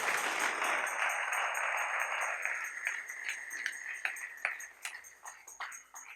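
A church congregation applauds, a dense clapping wash that thins into scattered claps and fades, with faint ringing tones above it.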